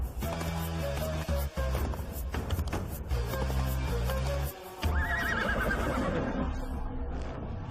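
Racehorses whinnying at a horse race in a packed stadium, several loud, shrill neighs with descending wavering tails sounding close over a dense layered background, with a brief dip in the noise midway.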